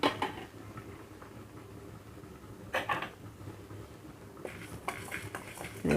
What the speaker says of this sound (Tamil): இப்போ இது எல்லாத்தையுமே இந்த இதில் ட்ரை ரோஸ்ட் பண்ணிக்கலாம்.